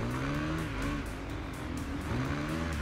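A Yamaha R6 motorcycle skids in the racing video game Ride 2, with a continuous engine drone and warbling tire squeal that rises and falls in pitch across a few seconds. No voices.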